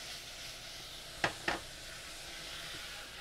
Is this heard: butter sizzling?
yes